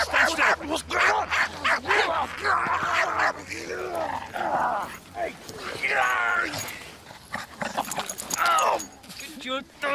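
During a police arrest a dog barks, yips and growls repeatedly at close range amid shouting and agitated talk from several people.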